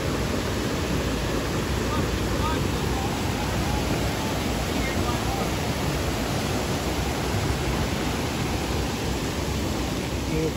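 Floodwater rushing hard through a culvert on a homestead, a steady broadband roar of churning water that holds constant and loud throughout, with no breaks or pauses.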